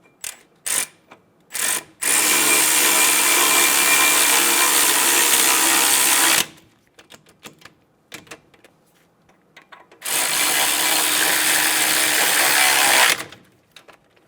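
A ratchet snugs down front caliper bracket bolts on a 2010-2014 Subaru Outback during a brake job. Two long, loud bursts of rapid clicking come up close, separated by a pause, and a few short clicks and taps lead in.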